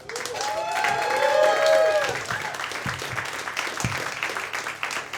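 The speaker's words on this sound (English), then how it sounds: "let's keep that clap rolling for your next comic." Audience at a comedy show applauding between comics, a dense wash of clapping that swells and then settles, with cheers and voices mixed into the crowd noise.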